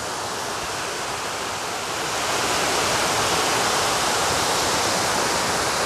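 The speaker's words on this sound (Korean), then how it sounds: "폭포 소리 한번 들어보세요." Waterfall on a mountain trail after rain, a dense continuous roar of rushing, pouring water, steady and loud throughout and swelling slightly partway through, with no other sounds on top.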